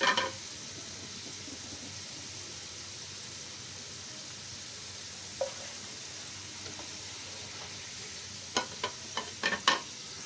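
Fries frying and being stirred in a pan, a steady soft sizzle throughout with a few sharp clinks and scrapes near the end.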